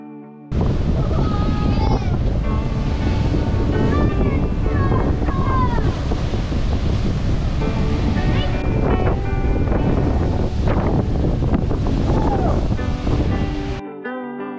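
Ocean waves smash steadily against rocks along a coastal beach, a loud continuous roar of surf and spray with wind buffeting the microphone throughout.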